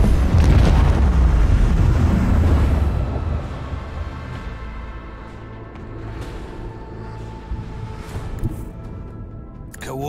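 Plasma torpedoes detonate in Warhammer 40k: Rogue Trader with a heavy, rumbling boom that fades over a few seconds into a lingering low roar and scattered crackles.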